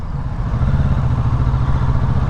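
A 2022 Kawasaki Z650RS motorcycle engine runs loud and close, a steady low throbbing rumble with a slight rhythmic pulse, no voices.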